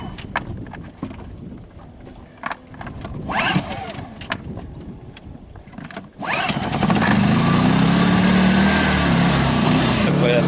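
A Honda portable generator is pulled and started outdoors. A few scattered clicks and rattles lead to a sharp start, then the engine settles into a loud, steady running drone that continues to the end.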